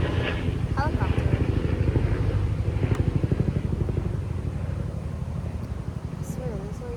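Helicopter flying overhead outdoors, a steady pulsing rotor thump, fairly loud and close, fading slightly toward the end with faint birds and a voice in the background.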